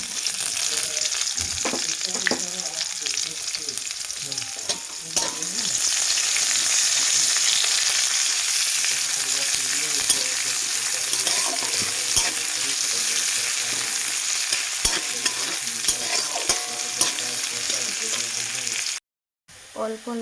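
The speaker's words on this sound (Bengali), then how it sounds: "এখন আমি পেঁয়াজ দিয়ে দেবো" Onions frying in a pan, giving a dense, loud, continuous sizzle with occasional stirring scrapes that runs almost unbroken before a short drop-out near the end.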